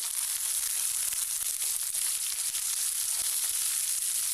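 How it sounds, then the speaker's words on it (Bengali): Eggplant and chopped tomato stirred together in a frying pan, a continuous bright hiss and crackle of frying held close and even for several seconds, with no talking. "এবার আমি এর মধ্যে দিয়ে দিচ্ছি বেগুন আর তার সঙ্গে দিয়ে দেব টমেটো কুচিটা। এবার একটু নাড়াচাড়া করে মিশিয়ে নেব।"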